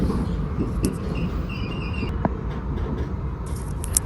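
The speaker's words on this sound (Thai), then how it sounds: "แล้วก็รถไฟก็วิ่งมาเรื่อยๆ" Steady low rumble of a French train rolling along the rails between Toulouse and Lourdes, continuous and fairly loud, with occasional faint clicks and squeaks.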